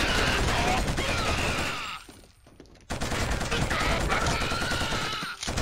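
Sustained automatic gunfire in the Killzone shooter game, dense rapid bursts that run loud and close, drop away briefly to near quiet, then resume at full intensity.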